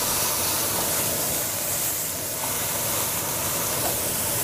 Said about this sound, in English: we're going to bring it over to our oval roaster, and we're going to braise it in the pan